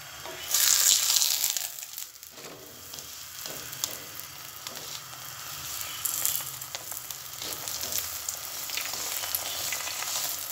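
Matar masala paratha sizzling and frying in a pan, a steady crackling hiss that holds throughout at close range with occasional brief louder spatters, no voices.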